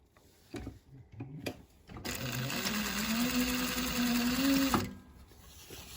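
A sewing machine stitches fabric strips for a bag in a steady whirring run of about three seconds, preceded by a few clicks and handling taps, then stopping abruptly.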